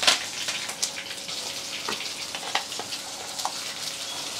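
Mustard seeds and dried chillies tempering in hot oil for a home-cooked Tamil lunch, giving a steady close sizzle with scattered small pops and crackles throughout, no voices.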